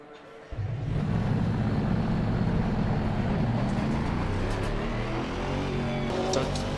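A race car in a racing video game starts lapping Zandvoort, its engine kicking in abruptly after a quiet start and then holding a steady, loud drone.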